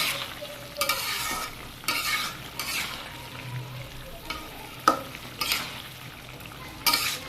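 A vegetable curry of carrot, turnip, beans and potato simmering in a pot, with a spoon stirring and scraping through it in irregular bursts over a low bubbling sizzle.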